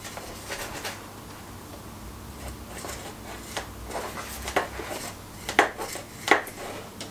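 A saw working slowly on the trunk of a Fuji cherry bonsai, giving soft, irregular scraping and rasping with a few sharper woody clicks toward the end, fairly quiet and close.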